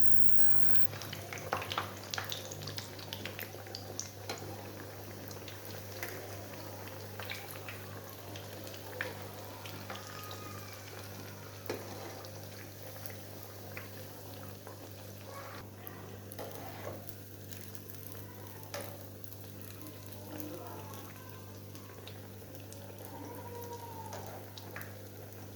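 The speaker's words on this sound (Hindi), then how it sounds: "तो अब करते हैं फ्राई।" Sweet banana tikki patties frying in hot oil, giving a steady close crackle and sizzle with scattered pops and a low hum underneath, continuing with no talk.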